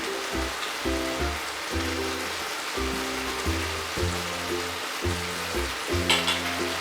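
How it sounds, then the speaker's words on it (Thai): Curry paste stir-fried in a hot pan gives a steady crackling sizzle throughout, with low tonal hums pulsing underneath. "ค่ะเราผัดพริกแกงแล้วนะคะ"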